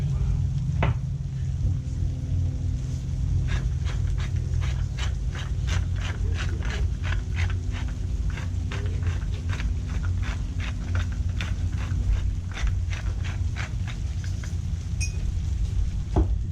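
Shrimp sizzle in a paella pan, a constant loud frying hiss with a dense run of sharp crackles and pops scattered throughout, no talking over it.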